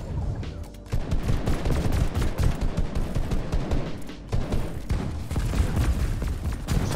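Rapid gunfire in a sniper shooter video game match during a Dreamhack tournament, with dense bursts of shots that crackle almost continuously, pausing briefly near the start and again around the middle before resuming loudly.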